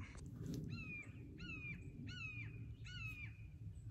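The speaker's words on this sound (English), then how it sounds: "Sorry about the hawk noise." A hawk calls outdoors, four evenly spaced harsh, descending cries, fairly faint and distant over a steady low background rumble, with no talking.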